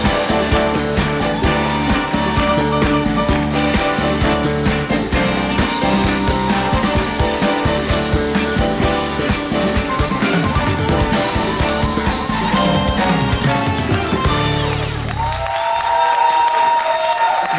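Loud, sustained applause and cheering from a TV studio audience over music, continuing strongly before dropping away near the end.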